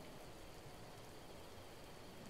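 Steady rain pours down in Zelda: Breath of the Wild, a dense, even hiss of falling drops with no breaks, filling the scene at low level and heard on its own.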